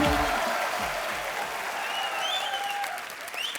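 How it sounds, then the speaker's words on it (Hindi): An audience on a Kapil Sharma comedy show claps to welcome guest actors, dense steady applause with rising musical tones underneath and a little crowd noise. "जोरदार तालियां साथ साथ में"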